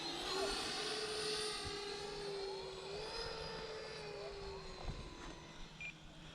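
An E-Flite F-15 Eagle model jet with a 64mm electric ducted fan flying slow circles at low throttle, giving a steady whining whoosh whose pitch drifts gently as it passes, continuous and moderately distant.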